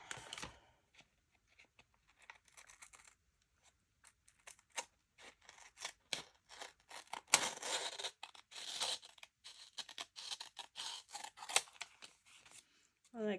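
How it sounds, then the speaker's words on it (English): Scissors trim paper around the edge of a planner page, a run of close, crisp snips and slicing crunches in irregular bursts, with no voice. "And then trim around the page."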